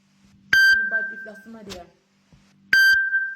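A mobile phone rings with sharp electronic tones, one early and one near the end, loud and close, with a person speaking between them.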